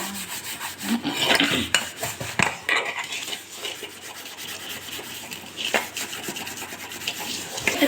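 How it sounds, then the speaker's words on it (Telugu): Greasy steel kadai scrubbed with lemon and Surf detergent, a steady rough rubbing and scouring close up, with scraping strokes and occasional metallic clinks throughout. "కొద్దిగా సర్ఫ్ అయితే ఇలా ఇలా రుద్దాలి"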